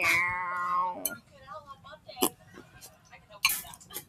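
Cat meowing in a video game, a long drawn-out meow at the start followed by a few shorter, quieter mews amid sparse clicks and soft game effects.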